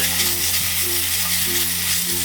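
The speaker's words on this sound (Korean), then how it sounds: "고기가 반쯤 익으면 표고버섯도 넣고 함께 볶아주세요." Thinly sliced beef brisket frying with shiitake mushrooms in an earthenware pot over medium heat, a steady close sizzle filling the short stretch with no voices.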